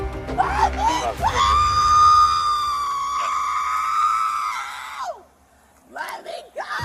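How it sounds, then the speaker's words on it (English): A person at a police traffic stop lets out one long, loud, strained scream lasting several seconds, then breaks off, and further shouting and voices follow. "Stop screaming."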